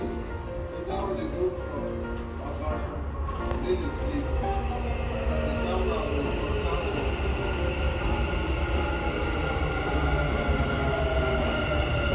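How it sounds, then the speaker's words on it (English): A Dubai Metro train rumbles and hums along the platform at steady volume for several seconds, with a brief announcement voice mixed in early on. "The train to Expo 2020 will arrive at platform 2."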